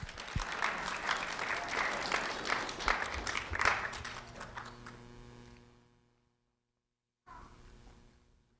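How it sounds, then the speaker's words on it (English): Dense applause from a crowd, loud and sustained, then thinning out and fading to silence before a brief burst of noise near the end. "a round of applause for Michael Merchant, please."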